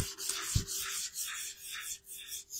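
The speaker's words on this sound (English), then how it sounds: "I'm just going to wipe it across." A cloth wipes a paint wash across timber in steady, soft rubbing strokes, close and quiet, with a low hum running underneath.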